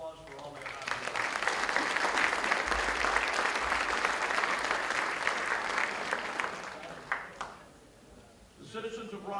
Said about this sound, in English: Ladies and gentlemen, they deserve a round of applause for all their hard work.